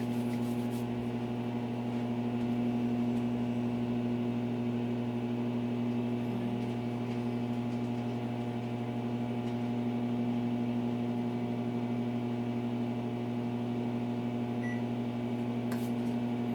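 A microwave oven hums steadily for the whole stretch, an even mechanical drone with no talking.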